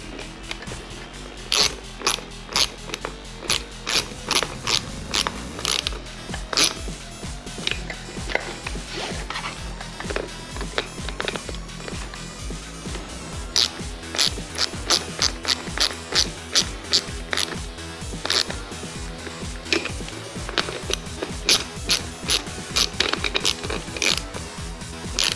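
A wrench tightens the wheel nuts on a Traxxas Hoss RC truck, with close, repeated metallic ratcheting clicks and scraping in irregular bursts across all four wheels, moderately quiet and with no talking.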